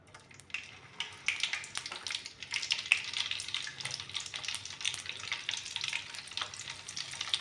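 Butter sizzling and frying in about four large spoons of hot oil for Kathiyawadi-style pav bhaji tempering, a steady crackling hiss with occasional stirring clatter, close and continuous, no voices.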